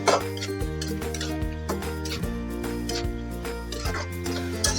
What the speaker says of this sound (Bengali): এবার এগুলো আমি একটু কষিয়ে নেবো